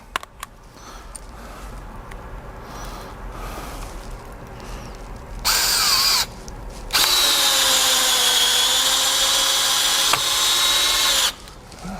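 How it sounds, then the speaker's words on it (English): A Snap-on two-speed hex bit screw gun runs on speed 1, a loud steady high whine starting in a short burst and then holding for several seconds before cutting off, with quieter workshop noise before it. "that's the Snap-on on speed 1"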